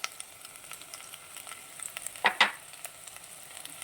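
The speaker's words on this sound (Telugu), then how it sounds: "వేసుకొని కొంచెం ఫ్రై చేసుకుందాం" Potatoes and carrots fry with onion and green chilli in a pan for a vegetable biryani, a faint, soft sizzle with a few sharper scrapes and clinks near the middle, heard close and without talk.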